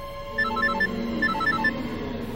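An electronic phone ringtone plays nearby in two short bursts of a repeating chirping melody over a faint low hum.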